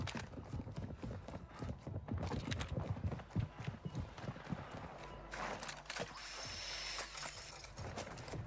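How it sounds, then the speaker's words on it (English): Heavy player footsteps stomp across an upper floor in Call of Duty Warzone, a fast, steady run of thudding impacts, moderately loud and close, over low game ambience. "I can hear this guy stomping down around me right there on that second floor"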